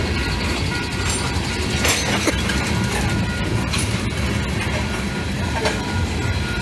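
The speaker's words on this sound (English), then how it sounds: "uncoupling from their train and heading back towards Brewster" Wheeling & Lake Erie freight train 214 rolls past with tanker cars near Wayco Siding, Hopedale, loud and close, with continuous rumbling and rhythmic clickety-clack of wheels over the rails and brief metallic squeals.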